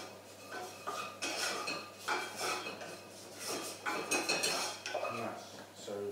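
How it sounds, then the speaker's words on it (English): Metal spoon scraping and clinking around a pan as tomato puree and prosciutto are stirred for a chicken cacciatore, with repeated uneven bursts of scraping and clatter throughout, close and moderately loud. "Give that a little stir."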